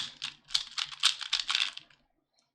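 Rubik's Cube twisted rapidly in quick clicking bursts, a dense run of plastic clacks for about two seconds, then near silence with a couple of faint final clicks.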